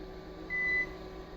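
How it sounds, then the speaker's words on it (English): A Forza UPS battery backup sounds off with a steady electronic tone lasting about a third of a second over a constant low hum, fairly faint and close in a quiet room. "This battery's getting really loud."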